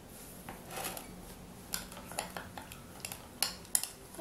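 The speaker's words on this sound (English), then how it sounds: "now I'm going to stir this up" A hair gel and salt mixture being stirred with a utensil, light scraping and clinking against the container, with a few sharper taps near the end, fairly quiet and without talk.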